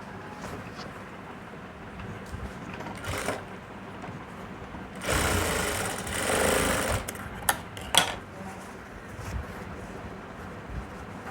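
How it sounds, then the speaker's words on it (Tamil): A sewing machine stitches a shoulder seam in a few short, separate bursts, with one longer run of about two seconds. The rattling needle sounds close and fairly loud, and no one speaks. "அதுக்கப்புறம் தான் இன்னொரு தையல் போடணும்"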